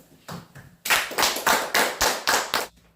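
A small audience claps to welcome a lecturer, starting with a couple of tentative claps before settling into a slow, rhythmic series of about seven distinct loud claps in unison, then stopping.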